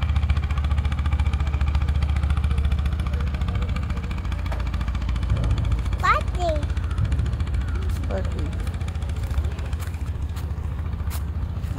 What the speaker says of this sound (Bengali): ওই যে নৌকা যাচ্ছে